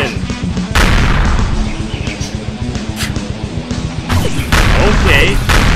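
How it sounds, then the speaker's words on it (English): An arm cannon blasting in a Sonic and My Little Pony animation, with booming energy shots and crashes rising over loud animated dialogue and effects. "Hey, the arm cannon!"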